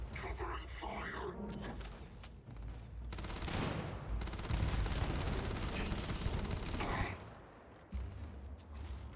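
Bursts of rapid gunfire in the video game Starfield, loud volleys with brief pauses between them and voices heard intermittently beneath the shooting.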